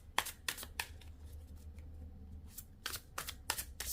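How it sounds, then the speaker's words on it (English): Tarot cards are shuffled close up and quietly, with crisp riffling bursts coming in quick clusters and short pauses between them, and no talking. "If I'm ever quiet while I am shuffling"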